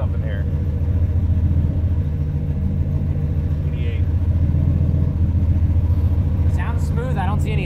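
A turbocharged V8 engine in a former grandpa's car, freshly fitted with a new turbo, idles smooth and steady with a deep, even rumble close by, and a faint voice is heard near the end.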